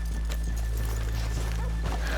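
Horses from Red Dead Redemption 2 clip-clop on a town street during a bank-robbery outing, a steady close hoof patter with a faint whinny under a constant low hum, no voices.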